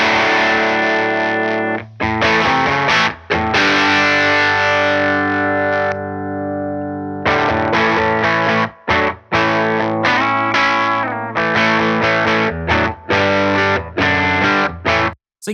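An electric guitar runs through a 29 Pedals Toki Fuzz Driver set to an edge-of-breakup tone, playing loud, sustained, lightly gritty chords and riffs with a short pause in the middle before strumming resumes.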